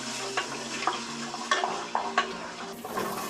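Garlic and ginger sizzle in hot oil in a pressure cooker while being stirred, a steady close frying hiss broken by scraping spoon strokes against the pot.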